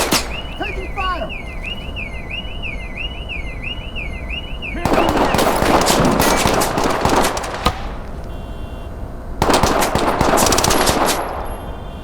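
Gunfire in the tactical shooter Ready or Not: two long, loud bursts of rapid automatic fire, preceded by a warbling alarm-like electronic tone.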